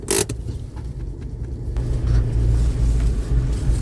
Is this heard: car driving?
yes